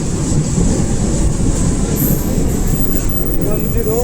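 A Konkan Kanya Express train rolls into platform 7 at a station, a loud, steady close rumble of wheels on rails with a faint high squeal, continuous throughout.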